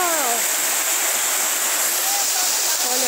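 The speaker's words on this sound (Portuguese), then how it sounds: "que cachoeira mais bonita, olha só que pedra d'água" Waterfall pouring along a hiking trail, a loud, steady broadband rush of falling water that fills the whole clip, with faint tonal voices or birdlike calls rising briefly above it.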